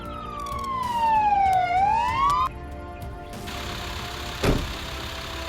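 Ambulance siren in the Emergency 4 video game, a loud wailing tone sweeping down and back up, cutting off abruptly and leaving a steady engine-like hum with a brief clatter.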